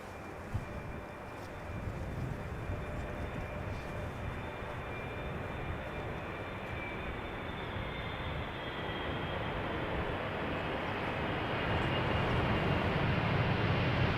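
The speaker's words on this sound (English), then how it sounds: "KLM flight 622, arriving from Atlanta, Georgia." KLM Boeing 777-300ER airliner arriving on Schiphol's Polderbaan, a broad steady jet roar heard from a distance that slowly grows louder over about fourteen seconds, with a faint high engine whine.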